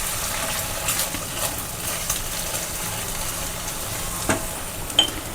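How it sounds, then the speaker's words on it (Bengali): Two eggs fry in hot mustard oil, giving a soft steady sizzle with occasional faint clicks and taps from a utensil, fairly quiet and close. "তেলটা গরম হয়ে যাওয়ার পর আমি এখানে 2টো ডিম দিয়ে আমি এখানে হালকা করে একটুখানি ভেজে নেব।"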